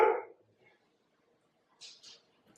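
Dogs bark indoors in another room: a few short, faint barks with long quiet gaps between them.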